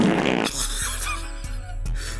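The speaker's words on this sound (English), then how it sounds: "a well-placed fart sound effect can break anyone" Cartoon fart sound effect in an animated show, a low rumbling burst in the opening half second followed by several short sputtering pops layered over a steady low drone, with no talking.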